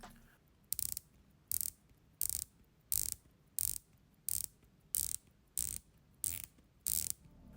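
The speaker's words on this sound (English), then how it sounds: "The bezel is quite easy to grip and turn. The clicks are defined and consistent, but the action does feel a bit light." A Sugess Submariner homage watch bezel being turned in a series of about eleven crisp, evenly spaced ratchet clicks. Each click is close, sharp and light, with quiet pauses between them.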